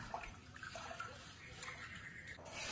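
Rice being washed in water, a soft, steady swishing and sloshing close by throughout the short stretch.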